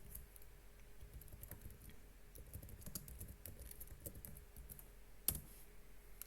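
A computer keyboard clatters as a GameMode command is typed, quick irregular key clicks close and faint, with one sharper tap near the end and no talking.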